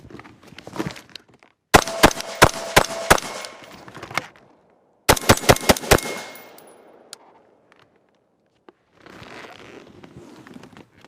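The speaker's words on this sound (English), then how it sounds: "you need to get out of the kill zone while still laying some fire down range" Shooters fire rifles from inside a vehicle during a tactical training drill: two close, loud bursts of rapid shots, each a string of sharp cracks, separated by quiet, with faint shuffling noises between.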